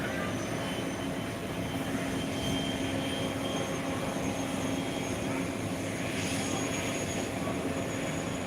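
An airliner arriving from Irkutsk at Phuket International Airport makes a continuous distant jet engine roar with a broad steady rumble, constant level for several seconds, with faint background ambience and no clear speech.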